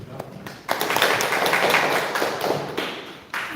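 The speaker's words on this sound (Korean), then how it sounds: "박수 한번 부탁드립니다" An audience applauds at an expert lecture on hydrogen mobility: dense, steady clapping swells in after a short pause, holds for a few seconds, then thins out.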